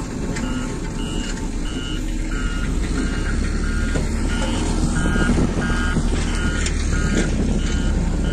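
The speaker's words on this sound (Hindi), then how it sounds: "अब ये ग्रेडर चल रहा है" A road grader working at a Delhi–Mumbai Expressway construction site: a loud, steady heavy diesel engine rumble under a repeating electronic reversing beep, with no talking.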